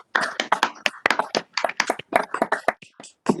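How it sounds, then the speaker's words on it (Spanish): Audience applause at a talk on democracy and justice, a burst of close, brisk hand clapping with dense, uneven claps throughout. "Pido un aplauso con micrófono abierto."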